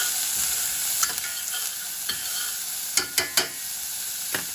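Garlic and onions fry in a very hot pan, with a continuous sizzle and hiss broken by several sharp scraping knocks of a utensil stirring them, clustered near the end.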